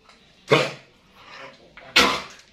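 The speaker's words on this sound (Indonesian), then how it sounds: "Tuh batuk Mas Bro si Moranya." Two sharp, harsh coughing bursts from a sick pit bull nearby, separated by a softer breathy rasp in between.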